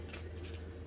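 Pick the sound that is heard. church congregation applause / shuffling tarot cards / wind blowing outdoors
shuffling tarot cards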